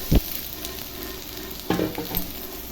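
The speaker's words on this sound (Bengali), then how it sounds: "এখন আদা রসুন বাটাটা দিয়ে দিচ্ছি এটা দিয়ে একটু ভাজা ভাজা করবো" Onion with ginger-garlic paste frying in a pan gives a steady close sizzle, broken by a few sharp clanks as it is stirred, with no talking.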